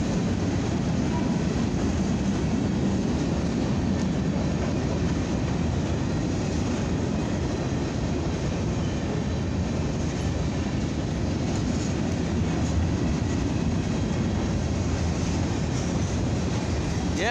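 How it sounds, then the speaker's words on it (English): Long westbound CFE mixed freight train passing at night, a continuous loud rumble and rolling clatter of cars that holds steady throughout. "Yep, this is a westbound mixed freight."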